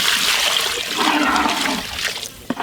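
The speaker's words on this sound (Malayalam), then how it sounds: "വെള്ളം പോവാ." Water soaked with kokum pouring into a cooking pot, a steady splashing trickle lasting a couple of seconds before a short clink near the end.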